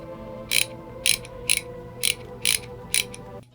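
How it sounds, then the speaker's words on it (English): Bicycle hub freewheel ratchet spinning, giving six crisp bursts of clicking at a steady pace of about one every half second over a faint mechanical hum, close and clear with no voices. "now that's a beautiful hub sound."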